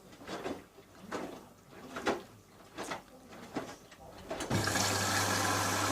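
Indesit My Time 9kg white washing machine fills its drum: a few soft clicks and knocks, then a steady rushing hiss of water flowing in that continues to the end.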